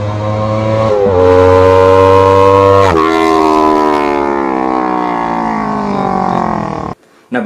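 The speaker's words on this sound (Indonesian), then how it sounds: "Jadi suaranya seperti ini kalau misalnya 180 derajat." Two-cylinder motorcycle engine with a 180-degree firing order revs hard, its pitch climbing sharply and then sweeping down in long gear-like pulls, loud and close, before cutting off abruptly near the end.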